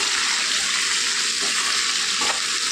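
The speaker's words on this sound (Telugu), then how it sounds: "నీళ్ళు కలుపుకోవడానికి కొద్దిగా పెద్ద మంట మీద ఫ్రై చేసుకోవాలండి." Spiced cluster beans fry on a high flame in a pan, giving a loud, dense, continuous sizzle with faint stirring scrapes and no talk.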